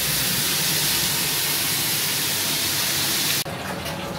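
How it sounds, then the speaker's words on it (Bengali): Vegetables frying in oil for a mughlai filling give a dense, steady hissing sizzle that runs loud and unbroken, then cuts off sharply into a quieter, thinner hiss. "আগে সবজিগুলো ভেজে নিই"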